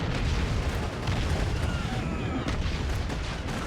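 A satchel charge goes off in Call of Duty 2: Big Red One, a dense, loud wartime blast that fills the scene with continuous rumbling battle noise and scattered crackle, with no clear single boom standing apart.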